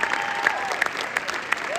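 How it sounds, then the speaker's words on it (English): A conference audience at CPAC breaks into brief applause, a short dense burst of clapping with a few sharper claps and a faint whistle-like tone on top. "we should all applaud him"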